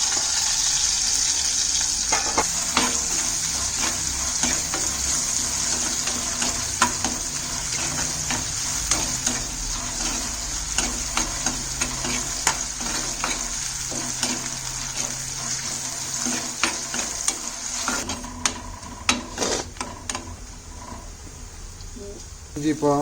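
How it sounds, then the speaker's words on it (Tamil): Chopped ginger sautéed in a pan gives a continuous loud sizzle with frequent spoon scrapes and clinks, close by, while someone talks over parts of it. "இஞ்சி இப்போ நல்லா வதங்கியாச்சு"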